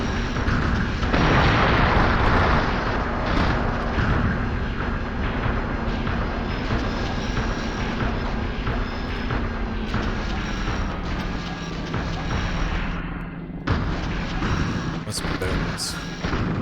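Machine-gun fire and explosions rain on a piloted mech in the Xbox game Steel Battalion, a dense, continuous barrage of booms and rattling hits under a low mechanical hum, with someone talking briefly over it.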